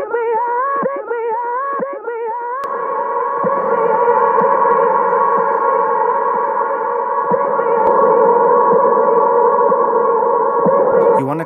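A sustained vocal tone smeared by heavy reverb and echo into a long, droning wash that hangs in the air, following a few wavering sung notes.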